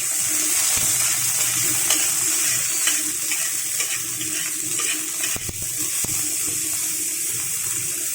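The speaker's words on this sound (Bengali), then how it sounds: "এখন আমি ওই তেলে উচ্ছেগুলোকে" Bitter gourd frying in hot oil for sukto, a dense continuous hiss and crackle with occasional small pops and stirring clicks, close and steady throughout.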